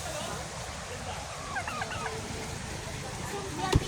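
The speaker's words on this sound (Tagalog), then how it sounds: "May pabo pa rito, oh." A turkey gobbles in a quick warbling burst midway through, set against steady outdoor background noise near a river in Norzagaray, Bulacan, with a sharp knock near the end.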